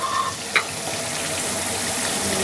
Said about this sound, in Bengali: এই যে মাছগুলো ভেজে নিচ্ছি, একটু তেলে দিয়ে দিছি